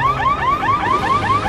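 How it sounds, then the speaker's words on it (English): A car alarm sounds during a video game, a loud, steady run of repeated rising electronic chirps that cycle evenly, each about a fifth of a second long, close and alone with no talk. "That's an alarm, isn't it?"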